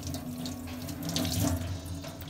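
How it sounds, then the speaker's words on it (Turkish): Kitchen cloth being washed under a running tap, a steady close rush and splash of water that swells slightly midway, with no voices. "temiz bir mutfak bezini yıkayınız"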